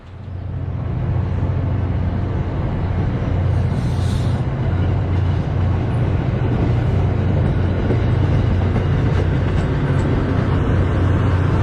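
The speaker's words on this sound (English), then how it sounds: "trains like this as well." A commuter rail train rolls past Beverly Depot on the line into Boston, a loud steady low rumble with rail noise holding for the whole stretch, no talk over it.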